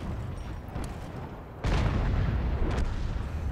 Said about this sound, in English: That's shot number one from WZ.